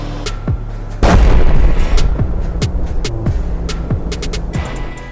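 A self-propelled artillery gun fires one loud, heavy blast that rolls into a long rumbling echo, over a steady engine drone with faint clanks and thuds.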